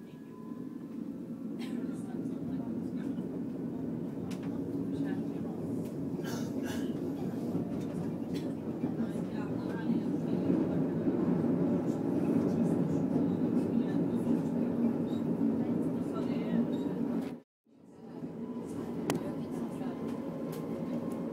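Steady low rumble of a moving passenger train on a ride in Sweden, continuous and even throughout, with a brief dropout near the end as the sound cuts before resuming.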